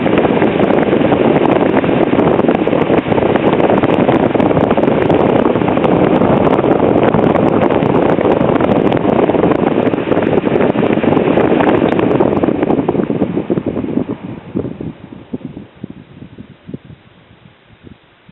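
A restored 1947-48 GE Vortalex oscillating fan hums with a steady, loud, breathy whoosh of moving air, then slowly spins down, the rushing sound thinning and fading over the last several seconds.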